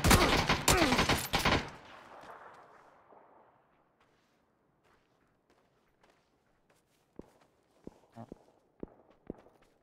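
Gunfire bursts in PUBG, a loud volley of rapid shots up front, then a quiet stretch followed by scattered sharp footstep-like clicks and distant pops.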